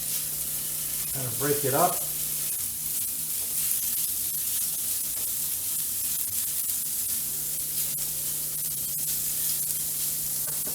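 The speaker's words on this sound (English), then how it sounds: "all of my sausage going on my griddle plate" Italian sausage sizzles steadily on a griddle plate, a constant hiss running under a man's speech.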